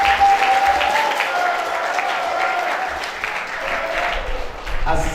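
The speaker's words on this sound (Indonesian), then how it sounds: "Boleh tepuk tangan dulu untuk siswa SMA" Applause from an audience at a large Ramadan religious gathering at a high school, cheering the senior high students; steady, dense clapping fills the whole stretch, with a brief dip near the end before swelling again.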